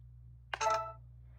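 A Minivision 2+ phone plays a single short electronic camera-shutter sound after its OK button is pressed, brief and fairly faint over a steady low hum, with no talk over it.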